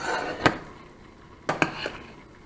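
Cooked shrimp scooped out of a pot for shrimp linguine, with three or four sharp utensil knocks against the pot, fairly close and separated by short pauses, with no voices.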